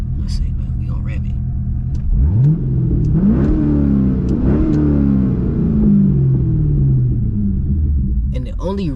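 A Chevrolet C6 Corvette engine idles with a deep rumble and then revs several times in quick swells, loud and close, with talk over it.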